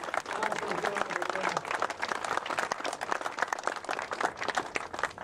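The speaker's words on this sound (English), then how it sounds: "he deserves a big round of applause" A round of applause from an outdoor crowd at a Saturn V model rocket launch day, dense, steady clapping that holds at an even level throughout, with some voices mixed in.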